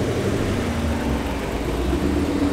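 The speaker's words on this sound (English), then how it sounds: "so we're gonna get a quick cold start" A Nissan Skyline R34 GT-R engine rumbles steadily at a loud, rough cold-start idle, a constant low drone with no voices.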